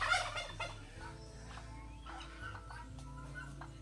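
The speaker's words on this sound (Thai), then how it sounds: "อันนี้มันทักกี้อ่ะไก่งวง" A farm turkey gobbles close by in a quick rattling burst, followed by fainter gobbles and clucking calls over soft background murmur and a quiet voice.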